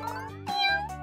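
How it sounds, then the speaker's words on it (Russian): A cat meows in a nest bed where it has brought its kittens. Two close, clear meows sound alone with no speech. "Кошечка принесла котят в лежанку."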